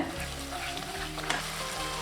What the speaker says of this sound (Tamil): இப்போ நல்லா வதங்கி எண்ணெய் பிரிஞ்சு வந்துருச்சுங்க